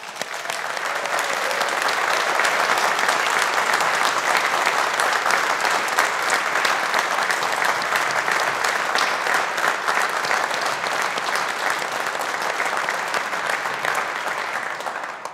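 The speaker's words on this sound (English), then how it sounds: "congratulating our graduates of 2021 on their achievements and their success with a round of applause from" Sustained applause from a large audience at a university humanities and social sciences graduation ceremony, congratulating the 2021 graduates; dense, steady clapping fills the hall for about fifteen seconds before easing slightly at the end.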